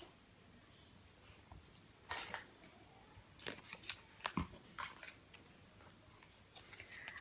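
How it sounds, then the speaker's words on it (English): Scissors snip through pink paper to cut out a small circle for a craft activity, giving scattered short crisp cuts close by over a quiet background, with no talking. "I'll cut a pink circle for this"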